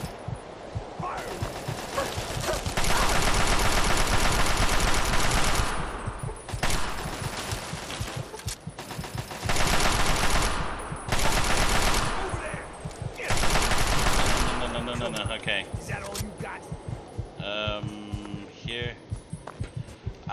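Gunfire in the video game Fallout 3, loud sustained bursts of automatic fire in several long volleys that keep rattling on, with a voice talking over the shooting.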